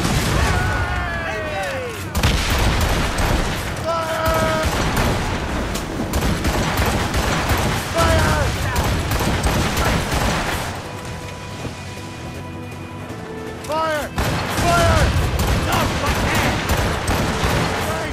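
Ship cannons fire broadsides in a naval battle in Assassin's Creed Rogue, heavy booms and rapid volleys crashing loud and continuous across the whole stretch, layered with shouted orders and combat chatter.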